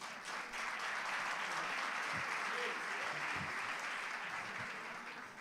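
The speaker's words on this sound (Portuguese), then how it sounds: "Vamos aplaudir Jesus pela vida do..." A church congregation claps steadily through a celebration service, a dense, sustained wash of applause from a large room with faint voices mixed in and a slight fade at the end.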